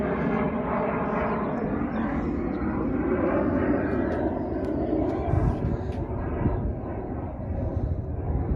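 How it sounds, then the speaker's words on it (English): An airplane passes overhead outdoors, a steady broad engine roar that swells slightly and holds for several seconds, with no talk over it. "So this airplane go by."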